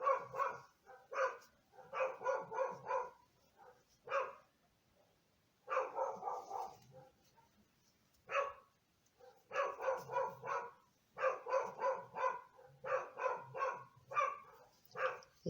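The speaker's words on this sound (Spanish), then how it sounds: "Eso que oís es el ladrido de Mango, mi perro" A dog barks repeatedly indoors in clustered bursts of sharp barks separated by short pauses, moderately loud and continuing throughout.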